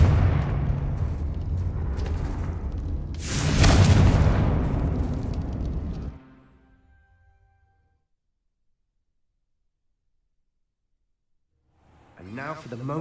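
A Confringo spell blast in Hogwarts Legacy on PlayStation 5: a loud booming burst that swells to a peak, then rumbles and fades into silence before a voice returns.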